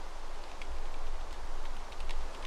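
Rain in the video game Minecraft, a steady soft hiss of falling rain with a low rumble underneath, continuous and fairly loud, with no speech.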